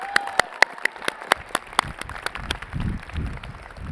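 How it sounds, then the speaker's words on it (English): A handful of scattered, separate handclaps from an audience at a university commencement ceremony, sharp and spaced out over the first two seconds before dying away into quiet room noise. "Can I get a round of applause for my president?"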